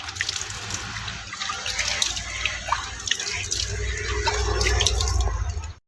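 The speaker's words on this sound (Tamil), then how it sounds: "இப்போ இலைகள் மேலேயும் நம்ம தெளித்து விட்டுக்கலாம்" Water sprinkled over the leaves of a potted rose plant, a steady splashing hiss of spray and droplets running close by for several seconds before cutting off abruptly.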